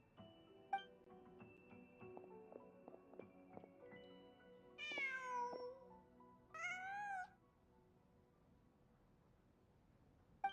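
A cat meows twice in Genshin Impact, two short rising-falling calls standing out clearly over a quiet game music and ambient background, followed by near silence.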